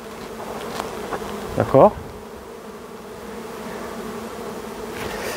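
Honey bee foragers buzz around a trailer loaded with twenty hives, a steady low drone with one brief closer, louder buzz as a bee passes, and a short spoken word.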